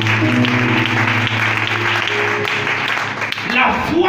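A church congregation applauds and cheers for a guest during a worship service, producing a steady, dense wash of clapping and voices that fills the space throughout, with music or sustained tones running underneath.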